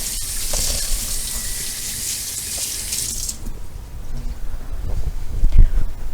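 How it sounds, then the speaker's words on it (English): Tap water runs steadily into a sink for about three seconds while hands are washed, then the flow stops and faint kitchen rustling follows. "now let me wash my hands"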